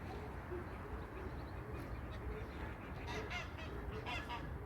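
Geese honk several times at a distance, faint calls rising over a soft background hum.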